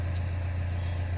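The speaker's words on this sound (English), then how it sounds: "77 Cummins truck." A heavy 1977 Cummins diesel truck engine idles with a steady low rumble, constant and fairly close, with no other sounds.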